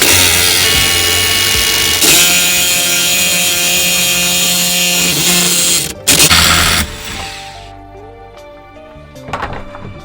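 A tool tightens to press a new wheel bearing into an Acura Integra hub, giving a loud, steady grinding drone for about six seconds, a brief burst, then fading to scattered metallic clicks and knocks.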